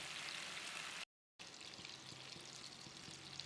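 Pepper-seasoned sardines fry in a pan with a steady, close hiss and fine crackle, broken by a brief gap of silence, then resuming with soft spattering pops.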